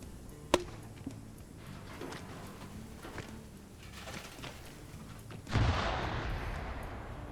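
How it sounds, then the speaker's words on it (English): Gunfire in an Arma 3 player-versus-player battle: a single sharp distant crack, then a fainter one a moment later, followed by a swelling wash of noise near the end against a quiet field. "More shots to the south."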